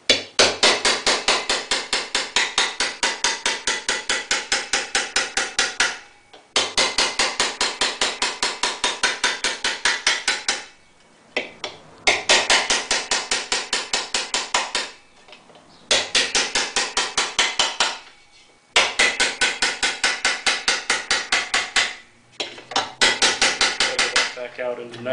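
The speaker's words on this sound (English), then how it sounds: "it's a lot more light hammer blows" Rapid, steady light hammer blows ring on a metal fender panel being shaped, in long runs, each broken by a brief pause; loud, close and metallic.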